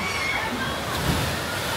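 A rider on an inflatable ring splashes into the landing pool of a water slide at the ORKA WORLD water park in Fethiye, Turkey. Steady rushing, sloshing water fills the clip, with faint voices in the background.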